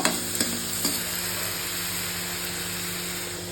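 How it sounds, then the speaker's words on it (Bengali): Onions fry loudly in a pan for a bhetki fish curry, giving a dense, continuous hiss after a few sharp knocks at the start; no voices. "পেঁয়াজটা ভালোভাবে ভাজা হয়ে গেছে"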